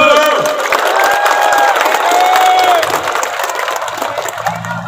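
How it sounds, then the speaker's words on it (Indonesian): A large outdoor crowd at a provincial anniversary event for Banten claps and cheers for the governor, a loud broad wash of applause with whoops and shouts, tapering slightly toward the end. "Tepuk tangan Gubernur."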